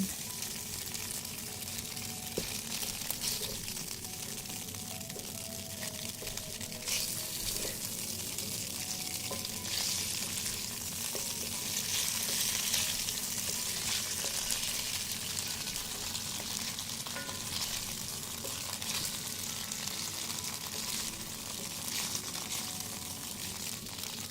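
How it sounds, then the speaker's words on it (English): Tofu and rice cakes sizzle steadily in a pan while being gently moved around, a continuous low frying hiss with occasional soft scrapes, fairly quiet and with no talking. "we'll just kind of gently move all of these around so that they cook hopefully without sticking to the pan"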